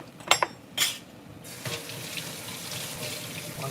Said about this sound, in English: Wash that can opener off real quick.